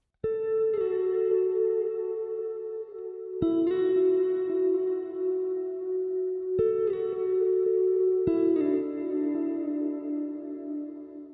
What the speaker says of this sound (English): The last guitar part is this guitar lead that I bring in the second half of the track